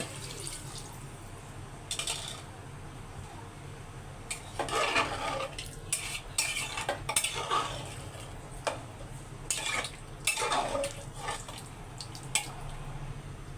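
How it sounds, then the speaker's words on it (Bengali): Broth is added to a pot of beef and potato curry, and the curry is stirred. Bursts of pouring and sloshing liquid mix with clinks of a utensil against the pot over a low hum, close and moderately loud, with no voices. "এখন আমি সামান্য ঝোল দিয়ে দেব পরিমাণ মতো।"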